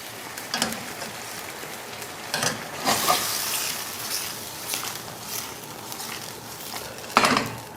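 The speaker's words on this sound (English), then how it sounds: "We're gonna finish the pasta, the last minutes in the sauce." Pasta tossed in a tuna sauce in a pan, finishing its last minutes of cooking: a steady soft sizzle and bubbling, broken by a few louder scraping stirs and clatters, with no talk.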